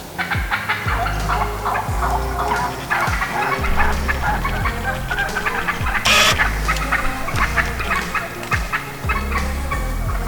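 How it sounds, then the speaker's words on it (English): Several wild turkeys gobble in the woods in repeated loud bursts, calling one after another through a busy, full outdoor soundscape with no voices. "Got some turkeys that just started going wild over there."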